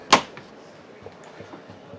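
A campervan door, on a 2025 Xplore XC LITE van, shuts with a single sharp thud near the start, then only a quiet interior room tone with faint small knocks follows.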